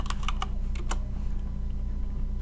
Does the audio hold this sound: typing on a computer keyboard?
yes